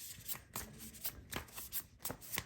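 A tarot deck being shuffled by hand, with a steady run of soft riffling card slaps repeating about every half second, close and clear with no talking.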